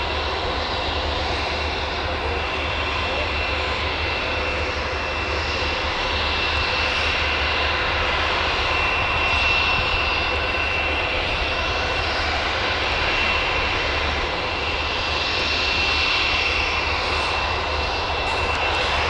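A Logan Air plane's engines roar steadily at Newcastle Airport, a loud, sustained drone with a constant whine that holds near for the whole stretch, no voices over it.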